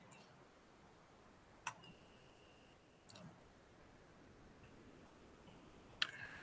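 Three sharp, isolated computer mouse clicks spaced a second or more apart in a quiet room, each brief and crisp against faint background hiss.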